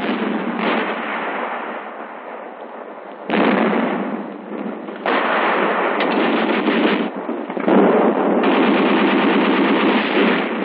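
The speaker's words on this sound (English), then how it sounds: "The artillery is ready." Dense machine gun bursts and booming artillery fire from a US Army military exercise, loud and continuous with rapid rattling that swells and shifts in intensity throughout, no voices.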